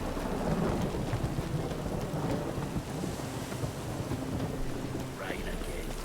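Steady heavy rain pours in The Witcher 3 game world, with low rumbling thunder rolling underneath throughout, a dense continuous storm wash with no break.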